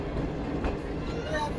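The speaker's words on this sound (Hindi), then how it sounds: "कोटरी और रोड़ी के दरमियान चलने वाली रेगुलर पैसेंजर ट्रेन है ये" Regular five-coach passenger train running between Kotri and Rohri, a steady rumbling roll of wheels and carriage heard from onboard, continuous and fairly loud with faint clatter throughout.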